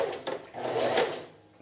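A sewing machine stitches a bust dart in dress fabric, a short close whirring run that swells and then trails off, with no voices.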